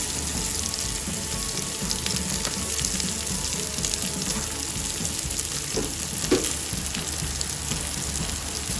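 Chopped onion frying with ginger-garlic-chilli paste for a chicken biryani makes a steady, dense sizzle that stays close and even throughout, with one faint clink and no talking.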